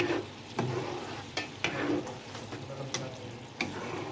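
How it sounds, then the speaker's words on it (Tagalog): Spring onions being stirred into sardines in a frying pan: a quiet sizzle under a series of distinct scrapes and taps of a spoon against the pan, spaced irregularly. "Tapos, ilagay na natin yung ating onion spring. Pagpadagdag lasa. Saka haluin."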